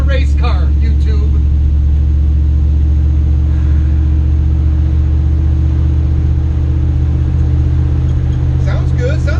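A 1960 Metro van with a Hemi engine in all-wheel-drive form runs on the road with a loud, steady low rumble and droning hum while driving, with people talking over it.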